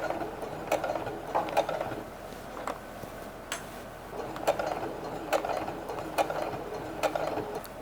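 A sewing machine stitching Christmas gifts, heard as a quiet mechanical ticking and whirring with sharper clicks at irregular intervals, close and fairly faint, no talk.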